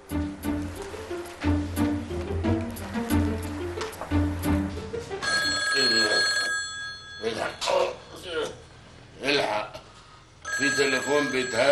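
A mobile phone rings and buzzes with an incoming call, its ringing tone coming in bursts that alternate with voices talking nearby.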